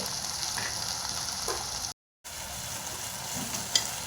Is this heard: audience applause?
no